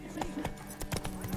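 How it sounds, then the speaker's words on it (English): Horse hooves clop in a steady, uneven rhythm in Witcher 3: Wild Hunt, moderately close and approaching, with a faint snort or whinny among the beats and no speech over them. "There's a horse coming."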